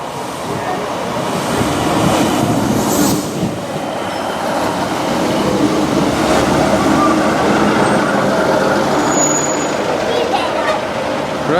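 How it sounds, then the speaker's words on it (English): A Class 156 diesel multiple unit, number 156483, rolls into a station with a steady loud rumble and rail roar that builds and holds throughout, with no talk over it. "now our train is approaching 156"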